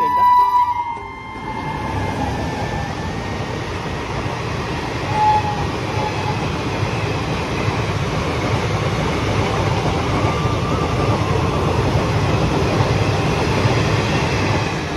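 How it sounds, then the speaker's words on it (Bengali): Train rushing past near a Durga Puja outing in Kalyani, a loud, steady rumble and clatter lasting throughout, with a faint high tone early on and no clear speech. "দেখ ট্রেন যাচ্ছে।"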